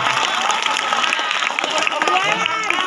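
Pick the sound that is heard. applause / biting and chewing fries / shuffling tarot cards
applause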